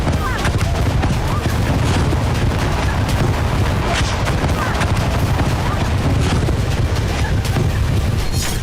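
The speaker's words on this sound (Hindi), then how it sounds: "अचानक आसमान से क्लस्टर बम गिरने लगते हैं" Cluster bomb blasts strike a crowded seaside beach in Sevastopol, Crimea, a dense, continuous barrage of overlapping bangs and rumbling booms with no pause, loud and chaotic, with faint voices mixed into the din.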